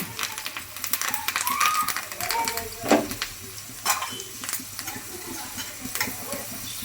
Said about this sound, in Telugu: రెండు వైపులా మంచిగా వేగుతాయి మిరపకాయలు